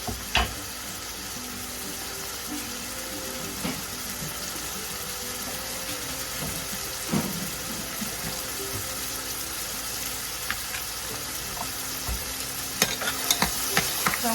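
Garlic, onion and tomato sauté in a pan, giving a steady, even sizzle for the whole stretch, with occasional soft clinks and scrapes of stirring close by and no voices.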